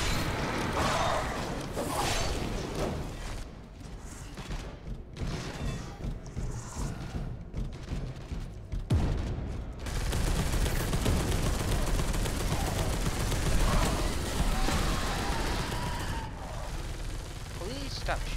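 Dense gunfire rattles through co-op play of the Purging the Xenos video game: rapid automatic bursts and heavier blasts that run almost continuously, with people talking over the shooting.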